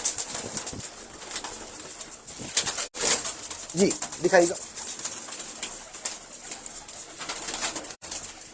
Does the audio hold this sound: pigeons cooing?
yes